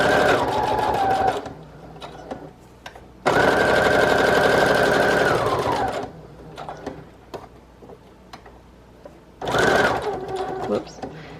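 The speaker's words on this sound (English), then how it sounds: "I'll just sew all the way around." A sewing machine stitches around the edge of a paper folio page, loud close motor bursts of rapid needle hammering separated by quiet pauses with soft handling clicks, three runs in all.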